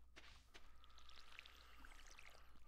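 Gentle water pouring from a watering can onto crops in the farming video game Stardew Valley, a faint steady trickle and splash with soft sparkly chimes over a low hum.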